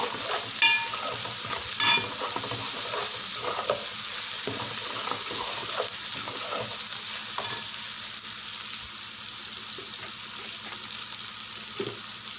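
Ginger garlic paste frying in a pan for an egg curry with spring onion greens, a steady soft sizzle with occasional stirring scrapes and clinks, close and continuous.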